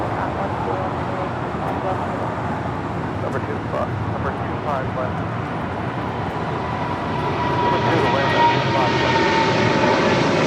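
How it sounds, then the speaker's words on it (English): Boeing 777 cargo freighter on its takeoff roll down runway 25 left at LAX, a steady broad engine roar that swells louder toward the end, with faint radio chatter in the background. "777 freighter now rolling down 25 left"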